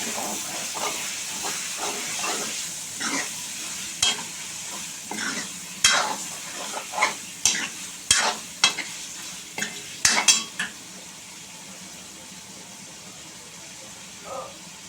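Chicken liver curry fries in a pan with a steady hissing sizzle while a spoon stirs it, knocking and scraping against the metal in a run of sharp, irregular clanks before the stirring settles back into the sizzle.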